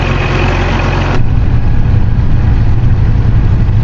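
A tractor pulling a disk harrow across a field in Farming Simulator 22 holds a loud, steady low engine drone, shifting to a heavier, fuller rumble partway through, with no talking.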